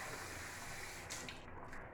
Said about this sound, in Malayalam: തിളപ്പിച്ചാർച്ച് വെച്ച വെള്ളമുണ്ട്, അതിൽ നിന്ന് കുറച്ചും കൂടെ ഒഴിക്കട്ടെ